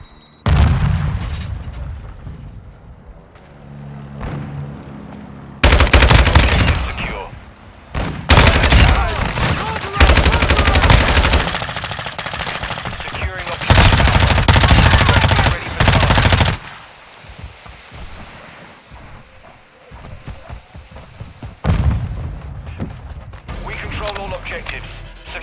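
A Semtex grenade thrown and exploding in Call of Duty: Modern Warfare II amid heavy automatic gunfire, loud bursts and booms in several blocks, with voice callouts between them.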